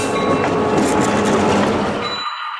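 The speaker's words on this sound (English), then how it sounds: "Here's the bell." A ScaleTrains EMD SD45 model locomotive's bell rings over its simulated rolling train rumble, a loud continuous mix that cuts off abruptly near the end.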